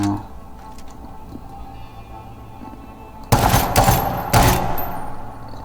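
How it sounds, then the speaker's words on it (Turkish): Gunfire from a shooting range in the game Medal of Honor Warfighter: after a stretch of low background ambience, two loud, close bursts of rapid shots ring out a second apart. "Gelelim atış noktasına. Atış edelim."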